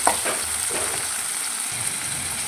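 Curry being stirred in a pan after salt and turmeric go in, a steady close sizzle with soft scraping strokes of the spoon, no voices.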